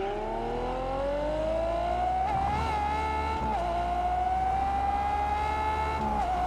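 A sports car engine in the video game Test Drive Unlimited Solar Crown revs steadily and loudly, its pitch climbing gradually with brief dips between gear-like shifts, sustained throughout with no talking.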